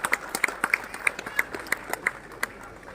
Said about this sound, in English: please give a huge round of applause to welcome our chief guest on this glorious occasion